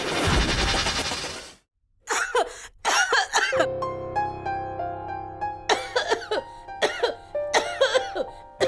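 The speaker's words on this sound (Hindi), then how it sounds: "आंटी जी की खांसी तो बढ़ती ही जा रही है।" A woman coughs in harsh, repeated bursts, in two clusters of short hacking coughs, close and fairly loud.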